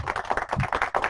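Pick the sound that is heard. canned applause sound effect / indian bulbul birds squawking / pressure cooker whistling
canned applause sound effect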